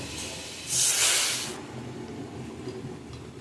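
Lentils dropped into hot mustard oil tempered with radhuni and kalo jeera, giving a loud burst of hissing sizzle that swells then settles into a quieter, steady crackle.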